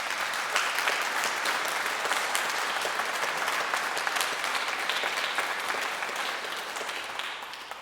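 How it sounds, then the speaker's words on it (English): Sustained audience applause at a junior piano competition's final awards ceremony, many hands clapping evenly in a hall and tapering slightly toward the end. "Can we give them a special round of applause?"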